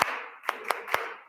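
Hand claps from a rhythm reading exercise in a Kodály music lesson: three sharp, evenly spaced claps close by, heard over a steady background of hiss.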